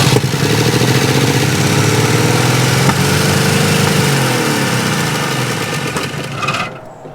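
A vintage GMC C30 dump truck engine, started after sitting for 30 years, runs steadily with a loud, rough mid-pitched idle that holds for several seconds before fading and cutting out near the end.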